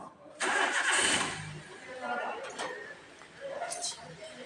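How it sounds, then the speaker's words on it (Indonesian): A car engine cranks and catches, then settles into a rough idle in a service workshop with the car on a lift, with a person speaking faintly over it near the end. "Lalu selanjutnya lakukan penghidupan mesin"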